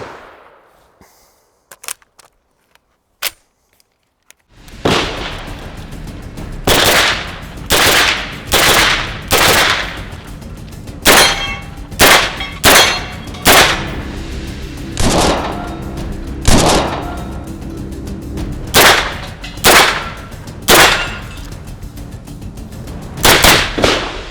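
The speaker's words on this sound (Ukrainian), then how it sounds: "давайте ще постріляємо" Loud bursts of MP5 submachine gun fire, short rapid volleys repeated over and over after a few isolated quiet clicks, close and sharp, no voices.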